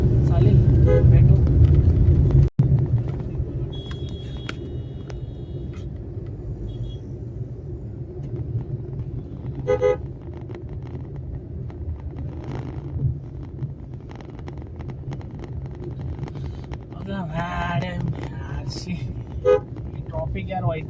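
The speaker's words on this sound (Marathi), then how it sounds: "ट्रॉफिक यार वैताग आहे. आता सगळे ट्रक भेटतील आम्हाला." Heavy road traffic with cars and trucks, a constant low engine rumble with occasional horn toots near the end, heard while people talk over it.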